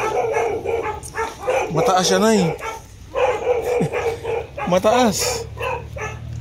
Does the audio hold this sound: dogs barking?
yes